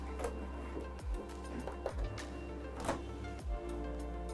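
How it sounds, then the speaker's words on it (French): A Cricut cutting machine whirs and ticks as it loads the cutting mat, with soft motor hum, light clicking and a few low thumps spaced about a second apart, close and fairly quiet. "Nous allons insérer notre tapis dans la machine"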